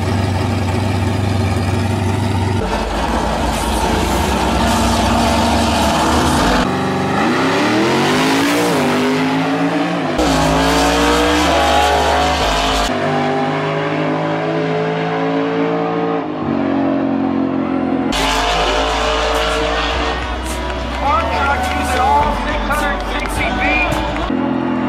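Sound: Lamborghini Huracan racing a farm truck

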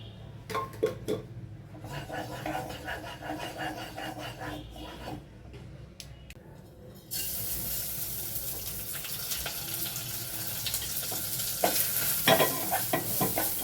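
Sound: Gobindobhog rice frying in a little oil in a wok

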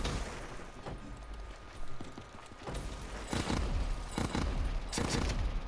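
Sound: 3-round burst gunfire in Call of Duty Black Ops III video game

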